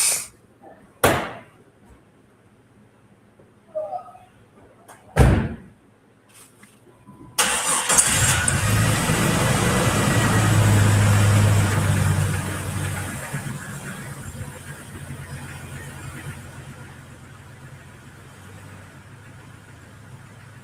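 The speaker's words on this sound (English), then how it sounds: "I had to get the tractor out of the way." A tractor engine cranks and catches after a few loud knocks and thumps, then runs with a steady low rumble that gradually fades down, heard close by outdoors.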